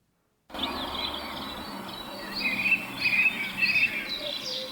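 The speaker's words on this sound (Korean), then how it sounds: "새소리" Birds singing in the morning, several bright chirping and warbling calls rising over a steady soft hiss, clustered toward the end and heard at a moderate distance with no voices.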